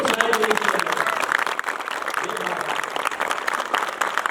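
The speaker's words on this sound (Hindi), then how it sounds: "आप सभी लोगों की एक बार तालियां तो हो जाए" A gathered crowd applauds at a celebration for a brand-new BMW X1 delivery, with dense, continuous clapping that stays fairly even throughout and faint voices mixed in.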